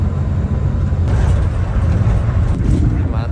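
Hasta Putra intercity bus on a Jakarta–Semarang–Solo run, heard as a steady low engine rumble with road noise and a couple of brief hissing bursts, close and loud throughout.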